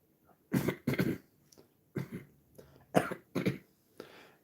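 A tired, run-down man coughs in a series of harsh bursts, about seven separate coughs spaced irregularly over a few seconds, close to the mic with quiet gaps between them.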